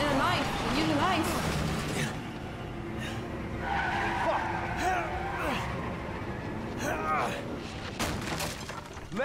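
A car's tires squeal and skid repeatedly during the Jack boss fight in Resident Evil 7, with engine roar, crashing impacts and loud, agitated talk over the action.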